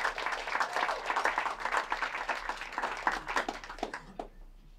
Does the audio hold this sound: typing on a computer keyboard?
no